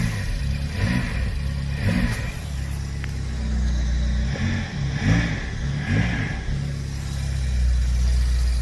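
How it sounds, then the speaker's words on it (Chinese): A badly wrecked BMW X6M's engine revs under repeated presses of the accelerator, rising and falling in several surges over a steady idle, loud and close. "于是又坐上车尝试踩了油门"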